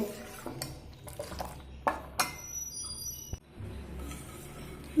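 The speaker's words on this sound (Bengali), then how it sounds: "তো এইভাবে দুধটা আমি মিশিয়ে নেব" A spoon stirring milk mixed with powder in a pot for fruit custard, with intermittent metallic clinks and scrapes against the pan over faint liquid swishing, close and fairly quiet.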